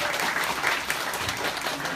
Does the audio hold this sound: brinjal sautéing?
no